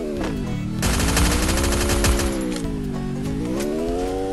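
Rapid automatic gunfire from the video game Free Fire rattles continuously for several seconds, loud and close, with an engine-like drone underneath and no speech.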